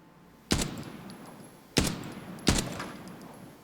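Three TX-15 DML rifle shots ring out in the Arena Breakout Infinite shooter, each a sharp loud crack with a decaying echo, spaced unevenly about a second apart against quiet background.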